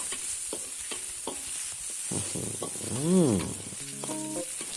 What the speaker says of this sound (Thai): ผัดให้หมูของเราเกือบสุกเลยนะครับ